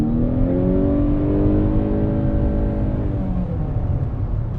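A 2020 Honda CR-V Hybrid accelerates on throttle, its engine note rising steadily with climbing harmonic tones over a continuous low road and cabin rumble, heard close from inside the car.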